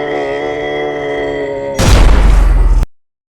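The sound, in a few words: explosion in the video game Scrap Garden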